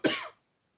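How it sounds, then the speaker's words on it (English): A single short throat clearing, close and fairly loud, lasting under half a second and then silence. "I'm trying to clear my throat."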